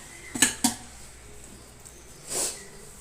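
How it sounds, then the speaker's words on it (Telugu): A metal lid is set on a pot of Andhra-style gongura rice with two quick clinks close together. A softer scraping clatter follows a couple of seconds later in a quiet kitchen. "మూత పెట్టేద్దాం."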